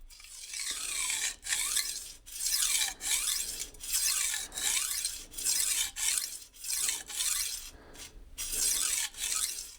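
A kitchen knife freehand sharpened on a whetstone, rhythmic gritty scraping strokes, about a dozen close swipes in steady back-and-forth rhythm with brief pauses between.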